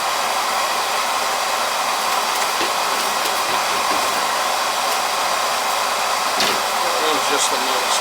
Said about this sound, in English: I could just plug it in my light and I'll run the motor.